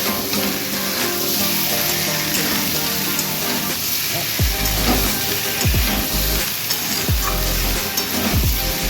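Potatoes for a vegetarian aloo dum fry lightly in a pan, a steady close sizzle and hiss joined in the second half by a few scraping stirs and clinks.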